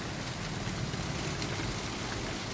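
Steady rain falls throughout, a dense even hiss of drops on a surface, close and continuous with no voices.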